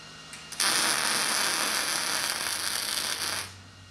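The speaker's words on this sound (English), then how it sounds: "Love the sound of that welder." Steel storage pins for a Rogue Monster Lite squat rack being welded out after tacking, a steady crackling hiss that starts abruptly and runs about three seconds close by before cutting off.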